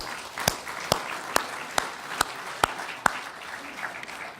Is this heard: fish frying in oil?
no